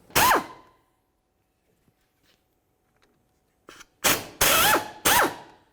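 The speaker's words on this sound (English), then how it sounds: "To remove these, let's use a T55 Torx socket." Ratchet with a T55 Torx socket loosening brake caliper slider bolts on a 2001-2006 Silverado 2500 HD: a short clicking burst, a quiet pause, then three loud rapid ratcheting bursts close up.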